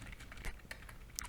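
Someone types a search on a computer keyboard in a brief burst of quiet, soft key clicks, close but faint, with no one speaking.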